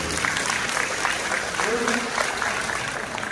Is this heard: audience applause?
yes